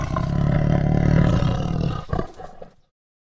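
A tiger's deep, loud roar rumbles continuously for about two seconds, then breaks into a couple of shorter trailing growls before fading into silence.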